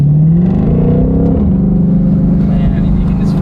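A Ford Mustang engine revs up at roughly a quarter throttle, a loud rising growl that climbs in pitch and settles into a strong steady drone, heard from inside the car with someone speaking over it.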